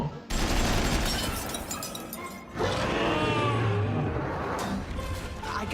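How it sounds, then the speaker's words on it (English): Cartoon sound effect of Astro Boy's twin machine guns: rapid, dense bursts of gunfire in two long sustained volleys separated by a brief pause, loud and close with crashing, chaotic texture. "he's got 2 machine guns popping out of his pooper"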